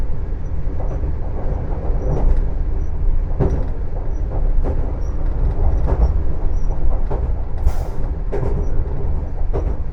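A TER regional train rumbles along at a steady 100 km/h, recorded from the driver's cab, with continuous loud rolling noise and rhythmic rail-joint clacks repeating throughout.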